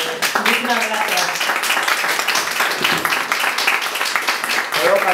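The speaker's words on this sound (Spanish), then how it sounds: "Un aplauso para el autor." Applause for the author at a book presentation, a room of people clapping densely and steadily, with voices mixed into the ovation.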